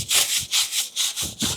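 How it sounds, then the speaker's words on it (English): Brush scrubbing the inside barrel of a Porsche 911 wheel on a wheel stand, a steady back-and-forth rhythm of about eight close, loud strokes with no talking. "And then I'll scrub the insides."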